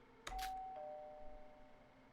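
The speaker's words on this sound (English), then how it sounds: "I thought that was the doorbell." A doorbell-like chime from the video game Danganronpa Another 2 rings out clearly, a bright two-tone strike whose note lingers and fades over a second or two above a quiet background.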